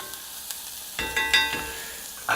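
Pork cheeks sweating and sizzling in a pan, a soft crackling hiss with a few louder pops and spatters, close and fairly quiet.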